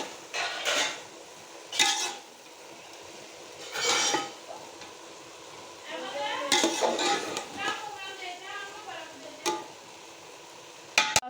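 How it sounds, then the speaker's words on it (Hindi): A spoon stirs sweet mutanjan rice in a pot with scattered scrapes and metallic clinks in separate bursts, a soft sizzle between them, and a voice talks partway through. "से ये चावलों को अब करेंगे हम मिक्स"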